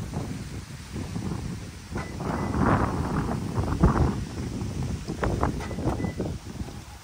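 Wind gusts buffet the microphone outdoors at night beside a parked Toyota Tacoma, a rough, uneven rumbling roar that swells and fades throughout, with no voices.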